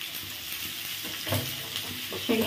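Food fries in hot oil in a pan at home, a steady close sizzle with a few soft stirring scrapes and clinks.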